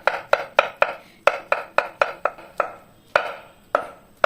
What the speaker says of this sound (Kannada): ಇವಾಗ ಇದನ್ನು ಬಾಳೆಹಣ್ಣನ್ನು 4 ಭಾಗ ಮಾಡಿಕೊಂಡು ಕಟ್ ಮಾಡಿದರೆ ಆಯಿತು